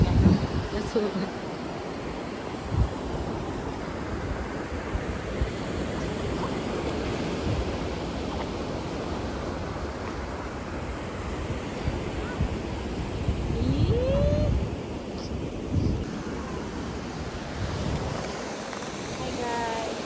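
Sea waves wash steadily onto a beach, a broad continuous roar of surf with wind buffeting the microphone and a brief splash near the end.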